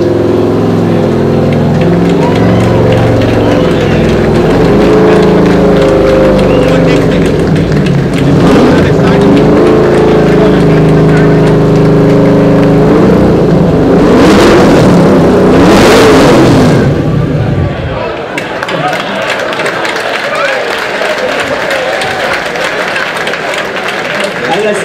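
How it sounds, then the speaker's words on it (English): A 1965 Shelby Mustang GT350 R engine revs loudly as the car is driven onto a stage, the rumbling drive-up dominating the first half amid crowd noise and applause, then settling to quieter hall ambience. "Pete Hood is driving the car up on stage, ladies and gentlemen"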